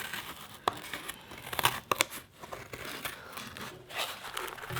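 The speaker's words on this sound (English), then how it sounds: "it's hard to cut cardboard" Scissors cut through cardboard in a children's craft session, giving irregular snips, crunches and tearing crinkles close up and unaccompanied by speech.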